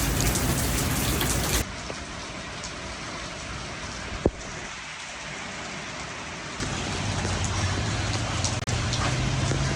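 Steady rain drums on an awning at a Memorial Day beach gathering in Gulfport, Mississippi, a dense, continuous hiss that eases slightly mid-way with one sharp tap before swelling loud again.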